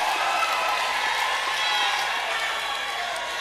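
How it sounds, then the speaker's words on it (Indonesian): Audience at a 2024 Ngada regional election (Pilkada) candidates' debate clapping and cheering for both candidate pairs, a steady dense wash of applause sustained throughout. "Boleh kita berikan tepuk tangan untuk pasangan calon nomor urut 1 maupun juga pasangan calon nomor urut 2"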